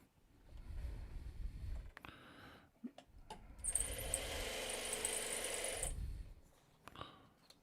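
A home sewing machine runs for a couple of seconds as it stitches small fabric squares used as leader-and-ender scraps. It is a steady mechanical whir framed by quiet clicks and handling noises, with no voice.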